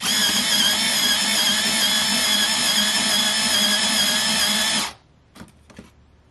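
Electric pencil sharpener grinding a pencil on its third setting: a loud, steady motor whir with a grinding edge that runs for about five seconds, then cuts off abruptly and leaves a few faint clicks and handling sounds.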